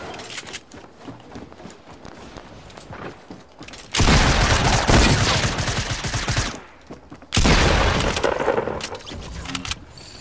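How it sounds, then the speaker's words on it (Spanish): Loud bursts of game gunfire, a sustained volley for a few seconds, a pause, then another heavy burst, over quieter rustling movement. "Este vato le pasó cerca ese disparo."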